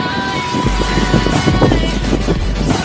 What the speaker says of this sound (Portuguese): Aqui é motor de carburada.